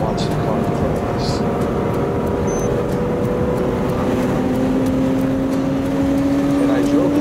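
A Porsche Boxster S cruising with the top down gives a steady roar of wind and road noise and a droning engine tone that rises gradually near the end, continuous and close.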